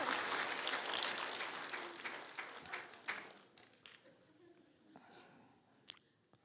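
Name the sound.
applause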